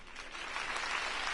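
A crowd applauds at a speech in the Batman: The Telltale Series video game, a short burst of dense, steady clapping heard on its own.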